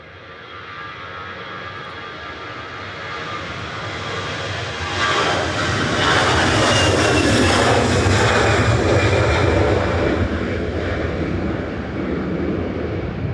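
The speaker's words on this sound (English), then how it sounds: "EasyJet 2171 heading off to Amsterdam there, GZWD and A320 Classic." An easyJet Airbus A320 Classic departs Manchester Airport, its jet engine roar building steadily from a distant rumble to a loud, broad sustained roar that holds through the end.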